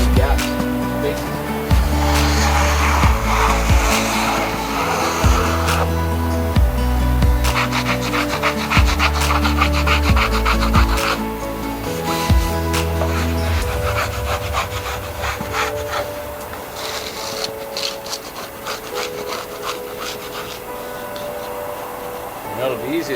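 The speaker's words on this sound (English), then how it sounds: "I just want to scrape the ice off the bottom of it" Scraping ice from the underside of a snow block while building outdoors in winter, heard as steady rough rasping and rubbing strokes up close, with a rhythmic low thumping beneath for most of the clip.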